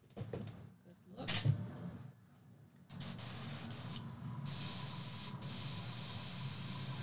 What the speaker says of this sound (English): I've got my airbrush ready to go. Let's make sure we've got this nice spray, not too much.